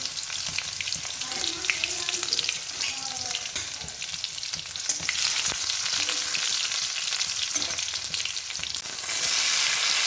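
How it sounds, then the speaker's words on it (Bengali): Chopped garlic fries in oil in a wok with a loud, constant sizzle and crackle, punctuated by scraping stirs of a utensil against the pan, close and steady throughout with no talking. "সেই জন্য কড়ায় তেল দিয়ে দিয়েছি, রসুন কুচি দিয়ে দিয়েছি।"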